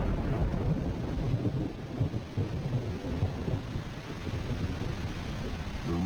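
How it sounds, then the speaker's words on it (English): A thunderstorm with steady rain in Kitavi during October's short rains, a dense wash of downpour with low rumbling thunder rolling through, wind gusting over the microphone, no voices. "In Kitavi, October brings the short rains."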